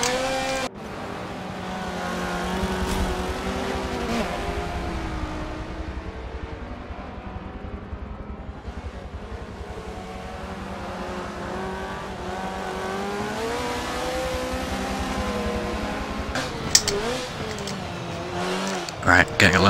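Showroom B-class rally cars, including two Ford Escorts alongside a Subaru and a Lancia, race in Forza Motorsport 7, engines revving and shifting through rising and falling pitch sweeps, with brief tire and impact noises near the end.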